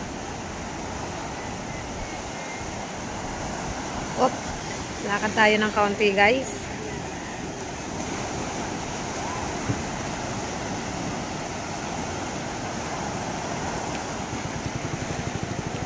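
Ocean waves near boats at sea give a steady broadband wash of surf throughout, while someone speaks briefly partway through.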